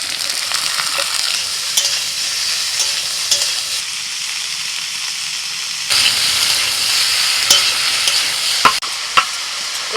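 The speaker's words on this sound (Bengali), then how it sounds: "মিনিট 3-4 একটু নাড়াচাড়া করে দিয়ে দিচ্ছি পেঁয়াজ কুচি" Chopped onion, tomato and slit green chilli stir-frying in a pan, a steady loud sizzle with scraping stirs and occasional spatula clicks throughout, growing busier in the second half.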